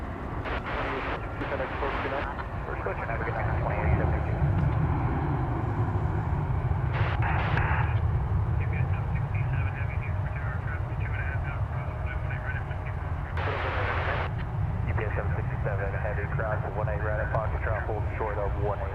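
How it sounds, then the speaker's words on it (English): An Airbus A320 airliner on flight 216 at DFW Airport makes a continuous low engine roar that swells and holds throughout, with voices and radio chatter heard over it. "This will be flight 216. An Airbus A320."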